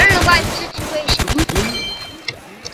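Gunfire from a SCAR rifle in a Roblox zombie game, a rapid burst of close, loud shots clustered early, then a few scattered pops, with a voice talking over the first part.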